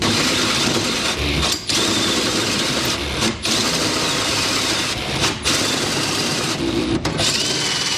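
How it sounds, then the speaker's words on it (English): A power drill whirs continuously at high speed through plywood, briefly pausing a few times before spinning up again, loud and close. "Then we can start drilling."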